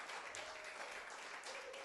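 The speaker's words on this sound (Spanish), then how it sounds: "déle un aplauso a la predicadora de esta noche" Church congregation applauding the evening's woman preacher, a soft, steady wash of many hands clapping, distant and faint, continuous throughout.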